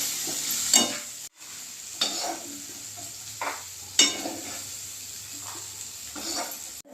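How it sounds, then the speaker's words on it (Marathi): Cooked chickpeas (harbhara) sauté in a pan with salt, a soft steady sizzle broken by repeated scraping stirs of a spatula against the pan, close up and without talk. "हरभरा शिजलेला पटकन परततो, त्यामुळे वेळ लागणारी ही कृती नाही आहे।"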